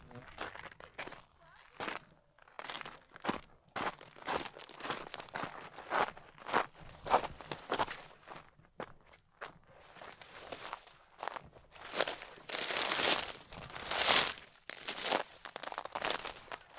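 Feet shuffle and crunch through dry brush and crackling debris on a desert hike near Tecopa, steady crinkling steps close by growing louder toward the end.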